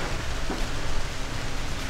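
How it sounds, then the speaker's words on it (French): Steady rain hisses evenly, a dense wash of falling water with no voices and no breaks. "Ah mais il pleut. Il pleut en fait."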